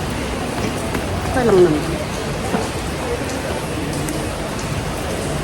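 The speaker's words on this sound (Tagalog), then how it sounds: "Umuulan." Steady rain falls outdoors by a shopping outlet, a dense continuous hiss filling the whole stretch at an even level, while someone talks briefly over it.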